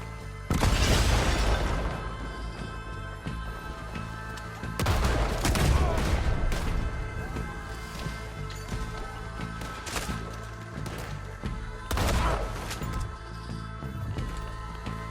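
Dynamite blasts and gunfire from the Western video game Red Dead Redemption 2: three big booming explosions spaced several seconds apart, each followed by a rattle of shots and crackling bursts, loud and close with no talking.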